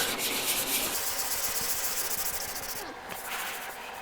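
Hard block sanding along a car body line before paint, a steady close abrasive rubbing hiss in back-and-forth strokes, no talking.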